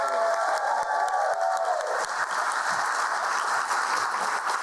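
A theatre audience gives a full, continuous round of applause for the backstage crew, dense clapping of a crowd that stays steady throughout.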